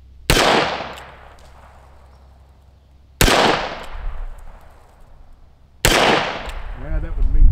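Three loud, sharp gunshots from a 2020 Colt Python revolver fired at a target about 7 yards away, spaced a few seconds apart, each with a quick decaying ring.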